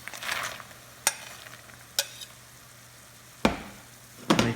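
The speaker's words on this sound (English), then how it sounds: "Now I'm gonna add my other portion of lotus seeds." Lotus seeds are stirred into melting sugar syrup, with a soft hiss under a few sharp, spaced spoon scrapes and clacks against the pan. The last ones come in a quick cluster. No one speaks.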